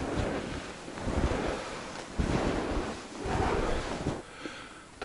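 Wind rising and gusting through a snowy forest, a broad whooshing roar that swells and eases in waves over a few seconds, buffeting the microphone, with no voices.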